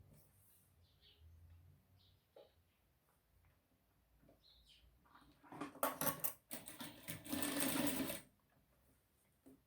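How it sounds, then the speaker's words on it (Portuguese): A sewing machine runs in two short bursts, stitching embroidered lace trim along the edge of a cloth diaper, loud and close after a quiet stretch with faint handling taps. "Eu vou colocar minha rendinha aqui na beiradinha e vou passar uma costurinha aqui"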